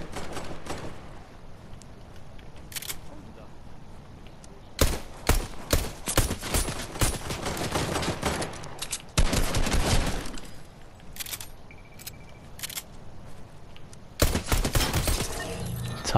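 Gunfire in Fortnite, bursts of rapid shots and sharp cracks coming in clusters, loud and close, separated by quieter stretches of background game noise.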